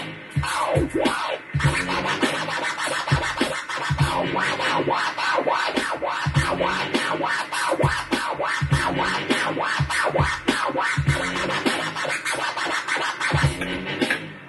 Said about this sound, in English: that is literally all I want you to do for the basics of the baby scratch